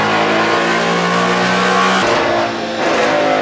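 A Ford Mustang S550 with an X-pipe and factory tuning revs on a dyno, its loud, steady engine drone holding for two seconds before cutting sharply and settling into a rougher, lower rumble.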